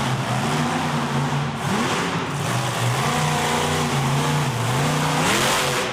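A monster truck engine revs hard during a freestyle run at an arena event, loud continuous roar with rising and falling pitch as the throttle surges, no speech.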